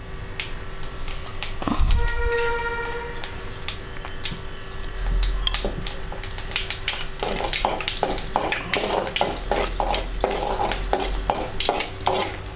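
Fennel seeds and cardamom dropped into hot groundnut or refined oil in a pan, a loud thump then steady crackling sizzle with scattered sharp pops and taps building toward the end, no voice.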